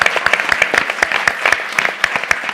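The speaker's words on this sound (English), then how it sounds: "So a big round of applause for them." An audience at a business talk gives guest speakers a short burst of applause, with dense, close hand claps rising in a brief steady wave.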